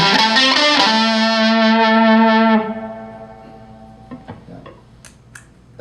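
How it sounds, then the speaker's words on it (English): Electric guitar through a fuzz pedal with moderate gain: a buzzy, harmonically rich chord rings loudly for over two seconds, then is cut off, leaving faint string noise and light handling clicks. "that fuzz actually doesn't have as much gain as some fuzzes"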